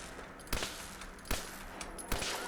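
Submachine gun in a Fallout game fitted with an explosive legendary mod, firing four sharp, evenly spaced blasts, each with a brief ringing tail, heard at a fairly quiet level.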